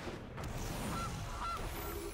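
Playing the Gilded Goose card in the MTG Arena digital card game triggers two short, nasal goose honks about half a second apart, faint over a steady bed of game music.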